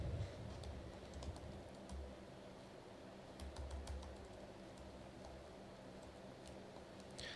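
Fingers type on a computer keyboard, a quiet run of light, irregular key clicks close to the mic over a low hum, with no one speaking.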